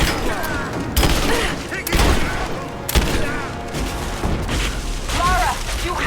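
Rapid bursts of gunfire and heavy booms in the Rise of the Tomb Raider finale, with loud volleys striking around the 1, 2 and 3 second marks over a continuous din of combat, while voices shout over the shooting.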